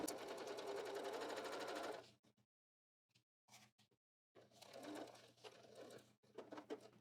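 A sewing machine stitches a pocket edge in a steady two-second run, then stops. Soft clicks and handling sounds follow during a near-silent gap, and another uneven burst of stitching comes after.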